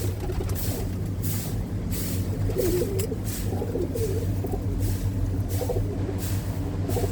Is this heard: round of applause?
no